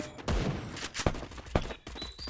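Gunfire in the mobile battle-royale game Free Fire: several sharp bursts of shots in quick succession, loud and close, over a busy background of game noise.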